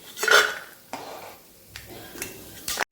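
Fried peanuts being scooped out of a pan of oil, a few separate metallic scrapes and clinks of a spoon against the pan with brief pauses between, close and moderately loud over a faint sizzle.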